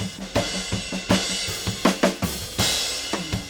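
A drum kit heard through unprocessed overhead microphones, with punchy kick and snare strikes under bright sustained cymbal wash, loud and up close in an irregular beat, with no one speaking.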